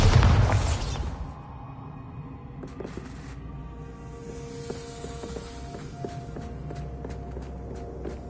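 Bombarda blasting spell in Hogwarts Legacy, a loud booming blast at the start that decays into a low rumble, followed by scattered debris clatter and small impacts.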